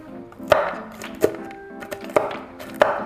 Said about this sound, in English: We're just gonna chop these up.